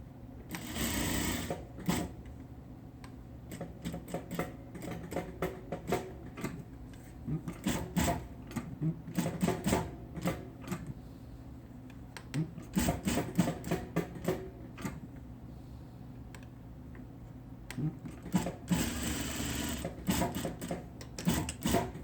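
A sewing machine stitches quarter-inch seams along the edges of a homemade P2 protection mask, running in bursts of steady rapid ticking that start and stop repeatedly, close and fairly loud.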